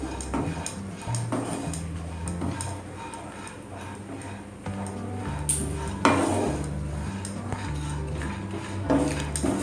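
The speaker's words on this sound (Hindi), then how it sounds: "ऐसे लगातार चलाते हुए नारियल को भून लेते हैं हम।" Coconut powder is stirred and roasted continuously in a pan for panjiri prasad, with quick, close metal spoon taps and scrapes against the pan in a brisk, steady rhythm.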